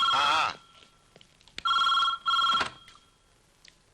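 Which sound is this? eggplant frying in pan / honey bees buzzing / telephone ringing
telephone ringing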